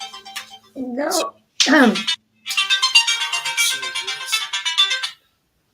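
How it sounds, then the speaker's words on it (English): A phone ringtone rings out over a casual group conversation, a repeating electronic melody that plays loudly for a few seconds after brief bursts of talk. "your phone's ringing"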